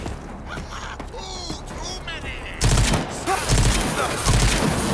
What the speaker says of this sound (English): We're just gonna pistol you guys down.